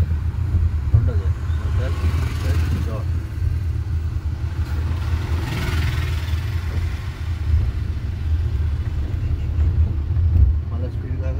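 A car engine drones steadily while driving through a gear change into third, a low continuous rumble close by with someone talking over it.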